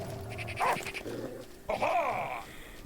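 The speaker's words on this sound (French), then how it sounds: "Mais il y a le chien." A dog in the video game The Last Day of June gives two short growling barks with a pause between them, close and fairly clear over a quiet game backdrop.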